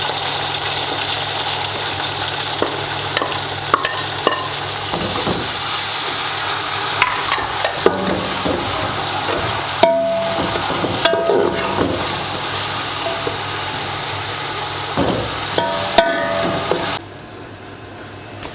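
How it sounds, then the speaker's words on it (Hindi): Onions and tomatoes fry in a pot for Bannu beef pulao, giving a continuous sizzle under a low engine-like hum, with scraping stirs and clatters scattered throughout and a sudden drop near the end. "जो प्याज और टमाटर हैं इनकी बुनाई हो रही है"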